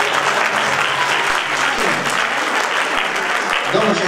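Sustained audience applause at a folk festival celebration with horses in Târgovişte, dense and steady clapping throughout at close, loud level.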